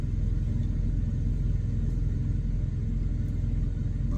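A truck's auxiliary power unit runs with a steady, low rumbling drone, constant in level and close by, with no voices over it.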